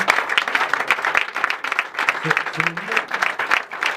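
An audience at a prayer crusade breaks into steady applause, a dense continuous patter of many clapping hands, with a voice speaking briefly over it.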